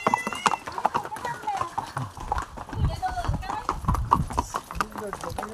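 Horses carrying tourists at Louisa Point in Matheran clop along a trail with uneven, overlapping hoofbeats close by, while someone talks over them throughout.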